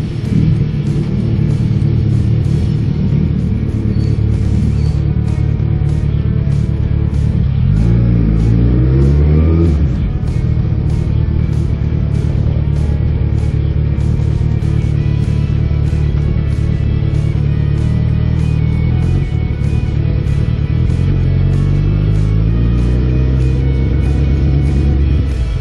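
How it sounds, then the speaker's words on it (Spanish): A motorcycle rides through the streets of Blanes, its engine droning steadily and loudly for the whole stretch, with a couple of rev rises and falls as it accelerates and slows. "Viajeando por la ciudad, va el Miguel en su moto"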